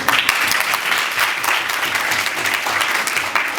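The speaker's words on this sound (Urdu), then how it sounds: "تو لڑکوں کی ہمت ہے، تالی بجانے کے لیے" Boys in a seminar audience give a loud burst of sustained clapping that fills the room, dense and even throughout.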